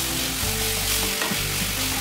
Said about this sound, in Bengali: এই মশলার মধ্যে দিয়ে খুব ভালোভাবে কষিয়ে নেব।